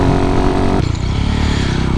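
A Honda Monkey 125 motorcycle riding along a country road, its engine droning loud and close, with a shift in pitch partway through as the ride continues.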